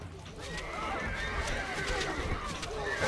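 A horse neighs in the Stronghold Crusader strategy game, a drawn-out whinny over a busy bed of game ambience and faint clip-clop, fairly quiet throughout.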